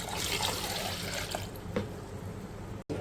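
A glass of water poured into ground fruit seeds for a drink, a continuous rushing splash that slowly thins out before stopping abruptly.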